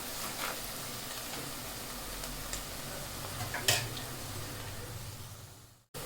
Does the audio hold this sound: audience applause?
no